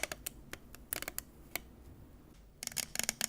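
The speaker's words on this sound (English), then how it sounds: "So I'll be stretching some tape." Tape is stretched and peeled up close for ASMR, producing soft crackly snaps and sticky clicks in irregular bursts, quiet and intimate, with a louder cluster of crinkles near the end.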